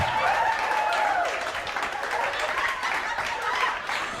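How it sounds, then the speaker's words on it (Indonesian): An audience at a youth cultural camp event applauds in a dense, steady wash of clapping that holds for several seconds, with a faint chuckle mixed in. "Tepuk tangan Rahmat Ababil."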